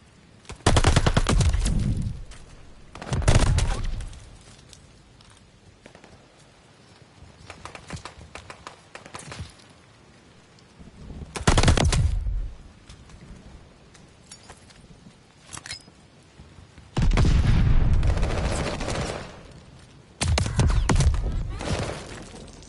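Video game gunfire from a hostile strafing run during a hardpoint match rattles out in several loud, rapid bursts, separated by quieter stretches of background game noise.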